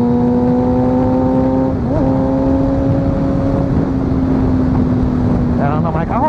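A loud Suzuki GSX600 sport motorcycle engine revs through an exhaust without a dB killer, holding a steady, buzzing tone with shifting pitch, rising sharply near the end, close and continuous.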